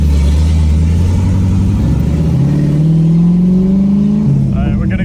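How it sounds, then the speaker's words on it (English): A loud engine in a Pontiac Firebird drift car rumbles and revs from inside the cabin, its pitch climbing and dipping through gear changes, with a person talking over it. "This car is quite a handful to drive. And it's so insanely loud on the inside."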